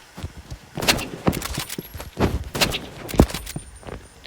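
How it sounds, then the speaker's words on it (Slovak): Shots fired in a first-person shooter video game, a handful of sharp separate bangs spread irregularly over a few seconds, moderately loud and with no talking over them. "Odkiaľ na mňa strieľa?"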